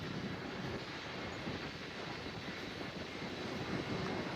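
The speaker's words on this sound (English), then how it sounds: "767-400ER in the Evo Blue livery. Now taxiing by Alpha towards runway 8." A United Boeing 767-400ER jet taxies toward the runway at an airport, a steady broadband engine roar heard from a distance with no other sounds.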